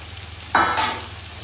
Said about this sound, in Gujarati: હવે આપણે કંકોડા એડ કરી દેવાના છે